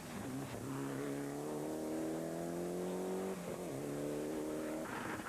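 A Mitsubishi Evo 6 rally car drives a stage at the 2002 Castle Hellfire Single Stage Rally, its engine holding a loud, steady note that climbs, dips briefly and climbs again, passing fairly close.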